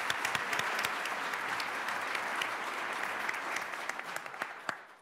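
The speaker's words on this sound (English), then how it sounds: "You can applaud them." Steady applause from the audience at a swearing-in ceremony for a state chief judge, honoring district attorneys; dense, continuous clapping fills the room at moderate distance for the full five seconds.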